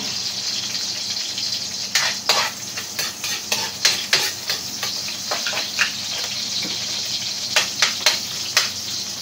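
Onion added to hot oil in a pan, a close crackling sizzle with irregular bursts of spattering and clinks of a utensil against the pan, no talking.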